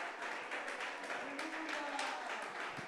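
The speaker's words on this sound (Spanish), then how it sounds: "Aplausos al Rey" Quiet, distant applause from a church congregation at a Spanish-language service, a continuous patter of many hands clapping with a faint tonal sound briefly rising underneath.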